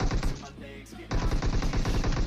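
Rapid automatic gunfire in the mobile battle royale game PUBG Mobile, dense bursts of shots with a short lull in the middle, loud and close throughout with no talking.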